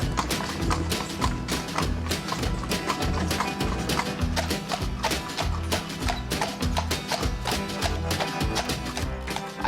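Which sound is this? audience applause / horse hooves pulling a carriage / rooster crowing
horse hooves pulling a carriage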